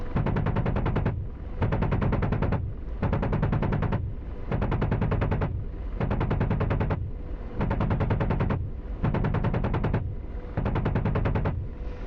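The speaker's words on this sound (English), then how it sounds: "we'll suppress this area here with gun rounds" An Apache helicopter's gun in the DCS World combat simulator fires eight long rattling bursts, each about a second long and separated by short pauses, loud and continuous.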